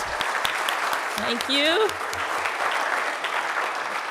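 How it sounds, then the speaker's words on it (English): An audience at a university leadership conference applauds, giving sustained, even clapping from start to finish while a voice briefly speaks over it near the start. "Let's give them a round of applause."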